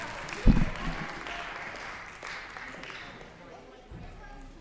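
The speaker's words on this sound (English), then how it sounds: "Round of applause for all these wonderful" An audience at a church Halloween music evening claps for children's costumes, with a sharp thump near the start and a moderate, fading spatter of applause that stays fairly soft.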